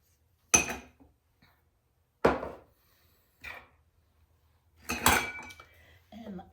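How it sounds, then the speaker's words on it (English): Minced garlic and meatball ingredients knocking against a pot as they are stirred, several sharp clattering bursts spaced apart with quiet gaps between them. "let me get those in the pot and let me whir those around"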